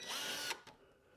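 A power drill with a 3/32 bit boring pilot holes in a jon boat, giving a brief close whir of about half a second that cuts off abruptly, followed by a faint clunk.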